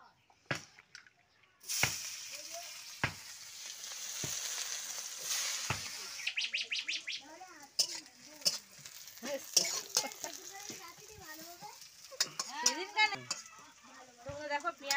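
Onions and green chillies are stirred as they fry in a pan, with uneven sizzling broken by scraping and knocks of a spatula and a voice talking through much of it.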